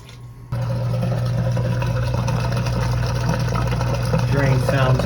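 A washing machine in an apartment drains and spins, a steady mechanical hum and watery churning that kicks in abruptly after a brief quieter moment and continues evenly, with a little background noise.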